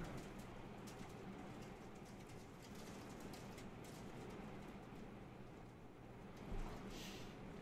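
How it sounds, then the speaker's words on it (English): Steady rain patters in the background of an indoor recording, a constant soft wash of noise throughout with no clear voices. "It's also raining in the background."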